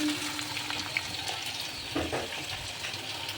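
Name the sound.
frying mixed vegetables with broccoli and beet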